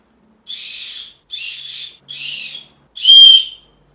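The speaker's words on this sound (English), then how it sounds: "The sternum strap here comes with a safety whistle." Four shrill blasts from a safety whistle on an Osprey Aura AG 65 backpack's sternum strap, each about half a second long, sounding close and piercing, with the last one loudest.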